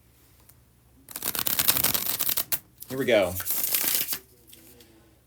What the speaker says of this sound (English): this is the second and last time I'm doing the bridge shuffle for y'all